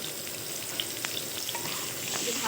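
Chicken fries in oil seasoned with salt and turmeric for Bengali-style chicken kosha, producing a steady, close sizzle and crackle with a few faint stirring taps and no talk.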